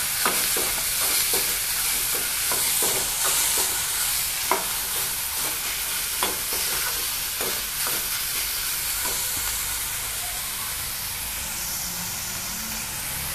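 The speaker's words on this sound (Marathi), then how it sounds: "मी आता हे व्यवस्थित आपल्याला खालीवर मिक्स करून घ्यायचं आहे." Chopped onion sizzles and fries in a pan while a spoon stirs it in repeated scraping strokes, steady and close, with no talk, while cooking sev tamatar sabzi.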